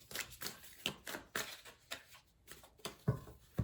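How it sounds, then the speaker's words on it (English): Quiet, close shuffling of a deck of tarot cards, with a series of soft riffling bursts and taps repeating in an irregular rhythm, alone without talk. "A couple more shuffles."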